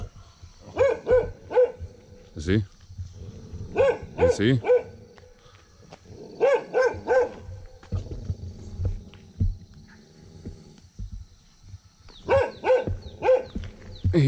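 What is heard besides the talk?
dogs barking at a Vietnamese eco village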